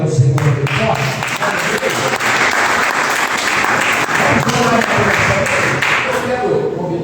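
A church congregation applauds loudly and continuously in a reverberant hall, a dense wash of clapping that fills the whole stretch, with some voices mixed in.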